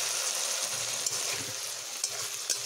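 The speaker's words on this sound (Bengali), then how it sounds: "এবার আমি যে মশলা রেডি করেছিলাম সেই মশলাটিকে এখন আমি এখানে দিয়ে নেব।" Fried okra and a prepared spice mix sizzle together in a pan, a steady close crackling fry with soft scraping and a few small pops.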